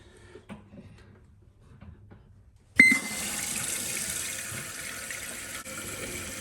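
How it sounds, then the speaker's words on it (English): Quiet room tone, then a sharp click as water suddenly rushes in, a steady loud hiss of a toilet tank filling fast through a VorMax fill valve that continues to the end. "this is actually filling really fast compared to our other one that was like trickling in there"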